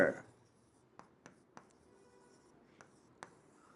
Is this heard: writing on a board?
yes